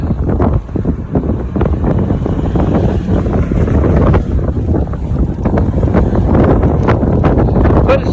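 Loud, gusty wind buffets the microphone on a dual-battery Bafang BBSHD e-bike cruising at about 15 to 18 mph into a headwind, a rumbling roar that surges and dips the whole way with no speech.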